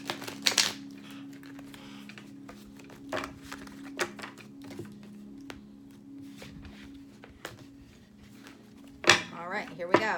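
A final shuffle of a tarot deck: light, scattered card flicks and taps at first, then a louder burst of riffling near the end, all over a constant low background hum.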